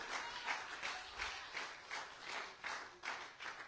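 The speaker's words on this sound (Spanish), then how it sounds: "Le doy una ofrenda de palmas al Rey si así lo desea." Church congregation applauding together, a steady mid-distance crowd clapping with rhythmic surges roughly every half second, no voices over it.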